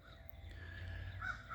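A crow caws once in a drawn, slightly harsh call at moderate distance while birds are being fed outdoors, with no voices present.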